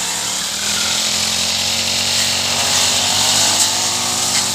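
A petrol brush cutter runs steadily at high revs, a loud, continuous buzzing engine whine that holds level throughout, close to the listener.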